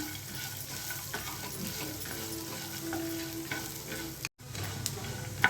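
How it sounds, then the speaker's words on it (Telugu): Mint chutney ingredients stir-fried in a pan with oil, a steady sizzle broken by the scrape and clatter of a stirring spoon, close and continuous apart from one brief silent gap near the end. "కలర్ మారేంత వరకు కొంచెం ఈ విధంగా కలుపుకుంటూ ఫ్రై చేసుకోవాలండి"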